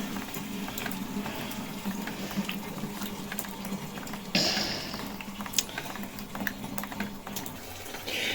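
Water splashes and spatters continuously around an icy flood spot, a busy wet churning with frequent sharp drips and slaps, close and steady, with a louder burst of spray midway.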